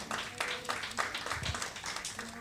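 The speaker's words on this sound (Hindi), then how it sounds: "तालियां बजाओ मेरे लिए भाई." An audience at a financial empowerment conference breaks into applause, a steady patter of hand claps with voices mixed in beneath it.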